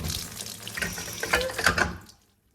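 Water pours and splashes out of a BMW car engine close by for about two seconds, then stops abruptly into quiet.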